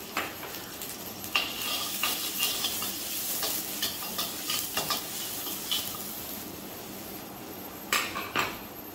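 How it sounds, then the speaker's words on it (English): Chopped garlic frying in reused hot oil for Penang char koey teow, a steady close sizzle broken by sharp clinks and scrapes of a spatula against the pan, growing busier in bursts near the end. "In the same oil, 1 teaspoon of chopped garlic."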